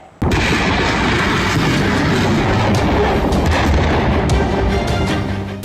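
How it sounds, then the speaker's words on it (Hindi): A BrahMos supersonic missile launches from the Indian Navy destroyer INS Imphal at sea, an abrupt loud blast followed by a sustained roaring rush of rocket exhaust that stays powerful for several seconds before easing slightly. "INS इम्फाल से पहली बार ब्रह्मोस मिसाइल लॉन्च करके नौसेना ने ताकत की एक नई मिसाल पेश की है"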